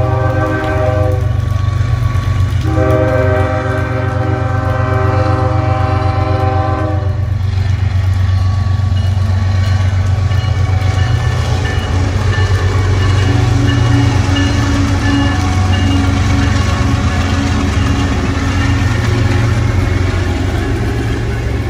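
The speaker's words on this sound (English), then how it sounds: "CSX train E305 heads northbound with coal empties from Plant Bowen" A CSX freight train hauling empty coal cars heads northbound, opening with loud multi-tone horn blasts before a steady heavy rumble of wheels and wagons rolling past close by, with no talking.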